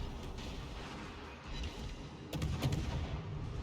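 Ship guns firing in a naval video game, heard as dull, distant thumping booms against a steady rumbling background, with a few sharper reports toward the end.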